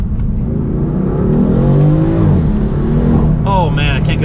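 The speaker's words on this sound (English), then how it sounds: "I can't get over those turbos" A turbocharged BMW M4 engine revs in a sustained, rising and falling drone inside the car, loud and continuous, with a voice speaking over it.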